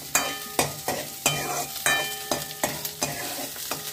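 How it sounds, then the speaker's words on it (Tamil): Oil sizzles steadily as onions fry for sambar, with regular scraping stirs of a spoon against the pan, close by. "இது நல்லா எண்ணெயில் வறுத்துக்கணும்."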